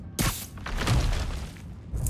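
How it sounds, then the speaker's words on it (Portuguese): A deep boom hits suddenly in the Spider-Man video game, followed by a long rumbling, crumbling tail and a second thump near the end, heavy and close, with no talking. "Parecia uma explosão."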